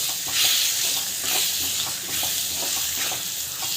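Spices and masala fry in a pan while being stirred: a continuous bright sizzle, with soft scraping strokes repeating about once a second.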